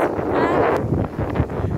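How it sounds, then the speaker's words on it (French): Strong wind at a long beach by a Hurghada resort in Egypt buffets the microphone in loud, continuous low rumbling gusts across the whole short stretch, with no other sound standing out. "Il y a un peu de vent, un peu plus de vent qu'hier."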